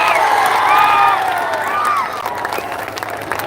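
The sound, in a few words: audience standing and clapping at a speech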